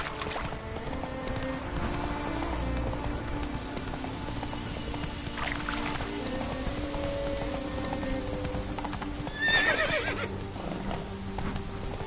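Roach the horse galloping in The Witcher 3, a steady run of hoof clip-clops under ambient game sound, with a brief neigh or whinny near the end.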